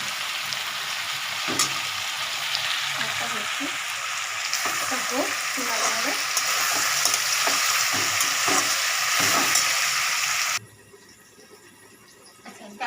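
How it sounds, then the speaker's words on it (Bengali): Mixed vegetables fry in a pan with a loud, continuous sizzle and repeated stirring scrapes, then the sound drops abruptly to a quieter hiss near the end. "দেখো বন্ধুরা এটা প্রায় ভাজা ভাজা হয়ে এসছে"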